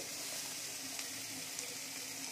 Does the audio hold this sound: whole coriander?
yes